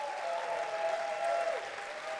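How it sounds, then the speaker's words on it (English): An audience at a ballroom dance show claps for the performers: a full, steady burst of applause from a crowd, with no voices over it. "Let's give everybody another round of applause."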